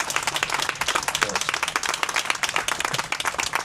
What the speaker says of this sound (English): Another round of applause for Judge Graney